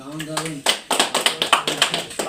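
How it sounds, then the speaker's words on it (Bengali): Hands clapping at a club trophy celebration, a run of about eight sharp, evenly spaced claps close by following a short stretch of singing voice. "চলো হাততালি ছোট্ট করে"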